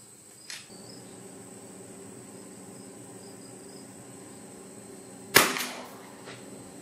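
A single shotgun blast from a Fabarm gun fired at a patterning board outdoors, a sharp loud report late in the clip, with a smaller crack near the start over a steady insect and cricket drone.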